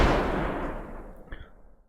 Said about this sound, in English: So we still have that Unreal Engine iconic first-person shooter gunshot sound that kind of comes through